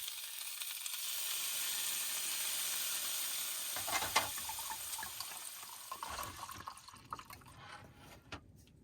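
Food sizzles in a pan inside a camper van, with a steady hiss that gives way partway through to scraping, stirring and clinking, close by and fairly quiet.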